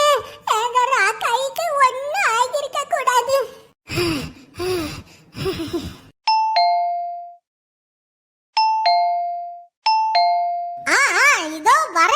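Three two-tone doorbell chimes ring out in a quiet stretch, each a clear ding-dong, preceded and followed by animated voices and a gasp.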